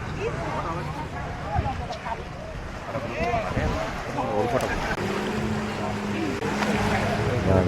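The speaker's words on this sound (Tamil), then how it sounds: "நம்ம வந்து போட் வந்து நம்ம போட்டு வந்துருச்சு." A boat pulls up to an island in Thailand, its steady engine drone mixed with wind and water noise. Voices talk over it throughout.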